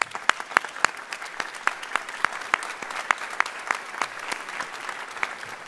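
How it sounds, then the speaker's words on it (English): Audience applause for three music finalists at a Fort Worth City Band concert at TCU, sparse, distinct claps spread across a moderately quiet hall, heard on its own without talk. "Let's have one more round of applause for these three finalists."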